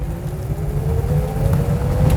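Rare vintage car engine in India revs up, a close low rumble with a rising whine that climbs steadily over a couple of seconds.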